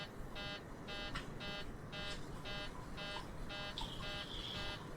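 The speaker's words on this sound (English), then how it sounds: "This beeping had never occurred last time. I don't know why we got all the beeping." Cockpit warning beeping in a PMDG Boeing 737 flight simulator, a faint rapid series of evenly spaced electronic beeps repeating in a steady rhythm over low background noise, with a few brief tonal chirps near the end.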